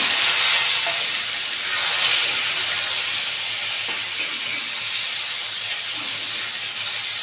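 Home-grown rooftop tomatoes hit hot oil in a pan for kul-tomato chutney, giving a loud, close, hissing sizzle that stays strong and even throughout with no speech.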